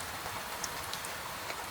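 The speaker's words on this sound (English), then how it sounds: "The rain falls without hurry. It patters on the bridge stones, touches the parapet, and slips away through narrow gaps." Gentle rain pattering on the stones of an old bridge over a river, a soft even hiss of fine drops with a few slightly sharper taps, steady and unhurried, with no voices.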